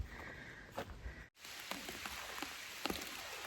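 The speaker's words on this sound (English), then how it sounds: "here I sit under my umbrella because it's raining" Steady rain patters on an umbrella overhead on a forest hiking trail, a dense close hiss with scattered louder drops and a brief dropout partway through, and no talking.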